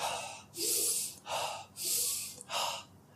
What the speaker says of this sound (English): fast breathing like this